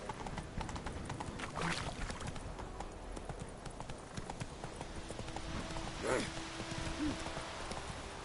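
Horse hooves clip-clop steadily during riding in The Witcher 3 video game, a quiet, even trotting rhythm under soft ambient sound, with a faint brief whinny-like call near the end.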